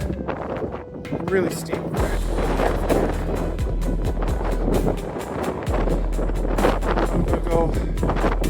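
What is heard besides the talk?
strong wind on a steep hilltop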